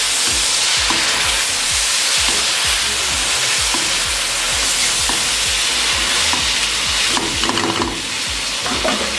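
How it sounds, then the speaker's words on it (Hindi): Mutton chop gravy with yogurt fries loudly on a tawa while being stirred, a dense continuous sizzle punctuated by rhythmic spoon scrapes throughout, no talking. "अच्छे से इसे मिक्स कर लेंगे।"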